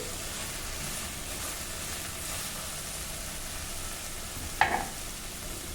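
Pieces of okra frying in a pan for an egg curry, a soft, even sizzle with one brief clatter partway through.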